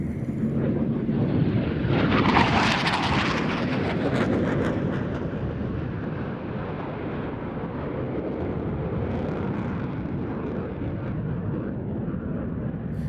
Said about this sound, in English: running in to start the flying display, the Dassault Rafale C of the French Air and Space Force